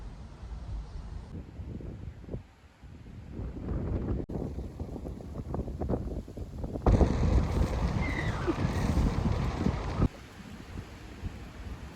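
Strong wind roars and buffets the microphone in heavy gusts, loudest toward the middle, a constant rushing rumble with no voices.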